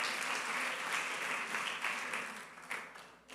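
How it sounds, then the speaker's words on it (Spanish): Church congregation applauding during a Sunday service, a dense and sustained wash of clapping with small swells that carries on for several seconds, with no voices on top. "Dame un aplauso al Señor"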